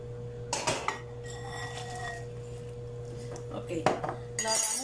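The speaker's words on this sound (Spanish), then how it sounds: "A revolver muy bien hasta que se disuelva el azúcar." A spoon clinks against a cup while stirring sugar into boiling water, with scattered light taps and scrapes over a low background hum.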